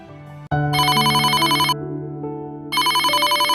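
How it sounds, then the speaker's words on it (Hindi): A telephone rings loudly with a trilling electronic bell, two bursts separated by a brief pause, close and clear with no talking. "सुबह सुबह किसका फोन आ गया?"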